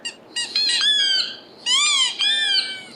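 Two bursts of high, rubbery squeaking from a phone app, like a squeezed dog toy, each with a quick rising-and-falling pitch, played clearly with a short pause between.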